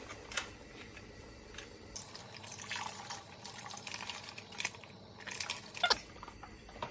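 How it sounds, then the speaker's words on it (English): Bone broth, about eight cups, poured into a soup pot for split pea soup, giving a steady low liquid splashing and trickling that swells and fades over several seconds, quiet and close with no talking. "I'm going to add about 8 cups of this bone broth."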